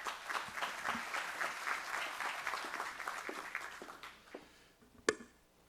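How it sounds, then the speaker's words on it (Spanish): Audience applause at the opening of a carbon forum, steady clapping for about four seconds, then tapering into scattered claps and a single sharp clap near the end. "Aplauso."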